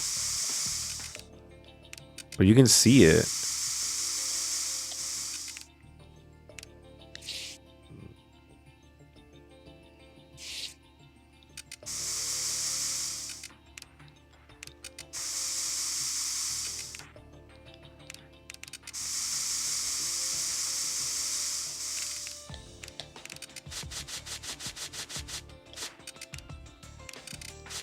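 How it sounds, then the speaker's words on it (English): A spray can hissing in the hospital video game Trauma Team: several separate steady bursts of airy spray, each lasting a second or more, with short pauses between and a brief spoken remark early on. "Spray is for blood, right?"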